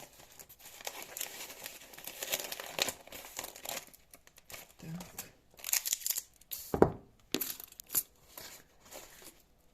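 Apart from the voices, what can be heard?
crumpling paper while packing discs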